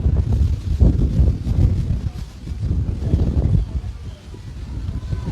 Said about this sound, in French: on a du mal à entendre avec le vent